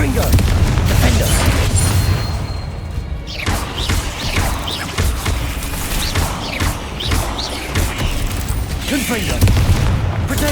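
Spell blasts from Bombarda and Confringo in Hogwarts Legacy crack and boom in rapid succession, a dense barrage of loud explosive impacts against a spider enemy fight, with a voice calling out over the action.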